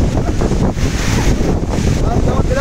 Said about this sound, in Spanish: hay un viento y el agua te moja